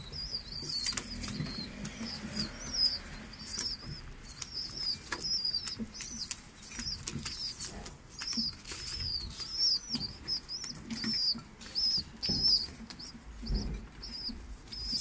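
Small birds in an aviary flutter their wings in repeated bursts, close by, while high chirps and tweets repeat throughout over faint background noise.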